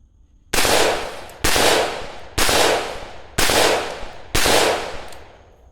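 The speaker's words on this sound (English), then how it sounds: "5 rounds of M855 bare muzzle" Five loud, evenly spaced rifle shots from an IWI Zion with a 16-inch barrel firing M855 ammunition through a bare muzzle, each sharp blast trailing off in a long echoing tail, no talk.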